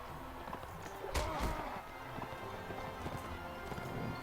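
In the video game Mount & Blade Warband, horses gallop with rapid, faint clip-clop hoofbeats. A couple of heavier thuds sound near the start, over a low battle ambience.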